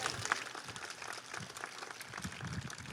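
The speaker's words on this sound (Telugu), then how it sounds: "చప్పగా ఉన్నాయి చప్పట్లు." Scattered, thin audience applause at a church feast celebration, a loose patter of clapping from a modest crowd that stays fairly even and subdued throughout.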